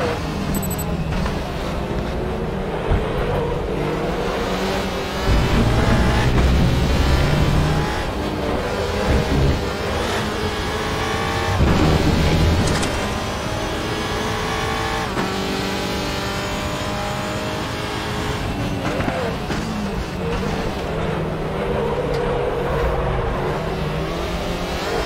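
Audi touring car racing on the Zhuhai circuit in the WTCR series, a continuous loud in-car engine roar rising and falling through gear changes and revs over the whole stretch.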